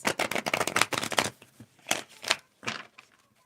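A fast run of tarot card shuffling riffles close up, then a few separate slaps and flicks of cards with short pauses between.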